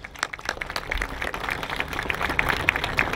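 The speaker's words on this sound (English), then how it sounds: "So a round of applause for them as well." An outdoor crowd applauds at a city parks Fountain Day celebration, with steady, dense clapping filling the short stretch at moderate volume.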